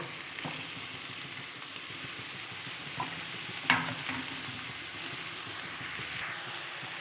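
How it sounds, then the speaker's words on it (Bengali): Chopped tender leafy greens sizzle with spices in a hot pan, a quiet steady frying hiss broken by a few soft clicks of stirring. "এবার আমি কেটে রাখা শাকটা এর মধ্যে দিয়ে দেব।"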